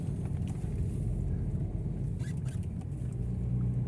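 A 2023 Daihatsu Terios facelift with rear-wheel drive and manual transmission climbing a winding incline, its engine a steady low rumble heard from inside the cabin with faint rattles and no talk.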